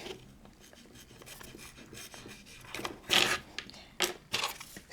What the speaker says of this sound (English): This is a number 19 deburring blade.